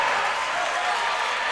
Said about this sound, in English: The crowd goes wild as the baseball team's on their feet as well.